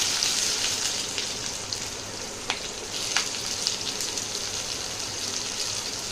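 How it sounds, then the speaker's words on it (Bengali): Chopped onion with panch phoron frying in oil alongside already-fried bitter gourd, a steady soft sizzle throughout with a couple of brief clinks of stirring, no talking. "তো এবার পেঁয়াজটা একটু ভেজে নেব।"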